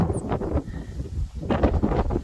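Steady wind roars and buffets across an open mountain trail in the Catalina Foothills, a broad continuous rush that swells and dips in gusts, filling the background throughout with no voices.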